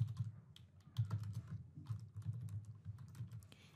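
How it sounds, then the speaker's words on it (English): Rapid, faint keyboard typing on a computer, a steady run of light clicking keystrokes with slight pauses. "Before that, let us type breaking news."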